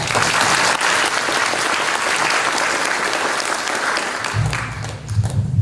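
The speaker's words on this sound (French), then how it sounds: "On l'applaudit." An audience applauds a mathematics professor at the opening of a national mathematics doctoral event, with steady clapping filling the hall for over four seconds before it thins out under a low murmur at the end.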